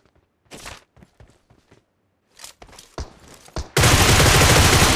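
Gunfire in the PUBG Mobile video game: a scattered series of sharp single shots and short bursts, then a loud sustained roar of rapid fire filling the last second, with no talk.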